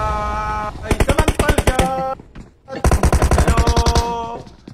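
Automatic weapon bursts from a PUBG Mobile match: two long rapid strings of sharp, evenly spaced shots with ringing tones, separated by a short pause.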